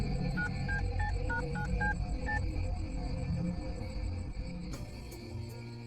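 In a Hindi cartoon, a telephone is dialed to call a mother: about eight quick electronic keypad tones beep in an uneven rhythm over a background of chirping crickets and a low hum, followed by a click.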